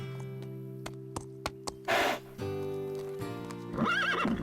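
A cartoon horse lets out a loud whinny and then a second neigh over a soft musical backdrop, with scattered hoof clops before them.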